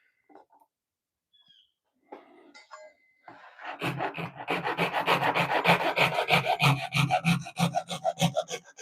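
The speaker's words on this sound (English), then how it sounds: "with the rip saw or with the cross cutting side, it kind of sounds funny on the plywood" A hand saw cuts through plywood, starting with a few light scrapes and settling into a steady, rhythmic back-and-forth rasp of quick strokes, close and fairly loud.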